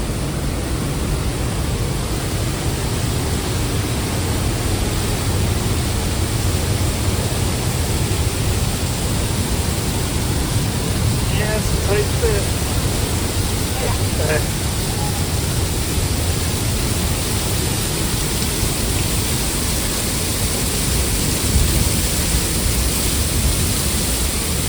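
A loud waterfall in Ecuador roars as a dense, unbroken wash of rushing water that fills the whole scene steadily and evenly from start to finish.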